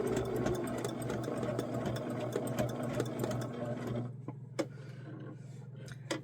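A sewing machine runs steadily, stitching appliqué around an inside handle, its motor humming continuously for about four seconds before stopping, followed by a few faint clicks and handling sounds.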